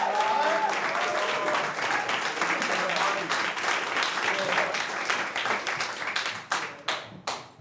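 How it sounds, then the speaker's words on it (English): Small live crowd at a Moth storytelling show applauding and cheering steadily, dense clapping with voices mixed in, tapering into scattered final claps near the end. "you'll hear a small but mighty crowd cheering him on"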